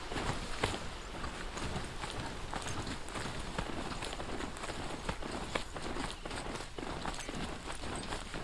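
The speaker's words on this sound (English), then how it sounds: "Actually, yeah, we are gonna ride the horse. Or the broadhead, whatever he is." Steady, quick hoofbeats come from a horse-like Broadhead machine being ridden in the video game Horizon Zero Dawn. The clopping keeps an even rhythm throughout, fairly faint under a broad background noise.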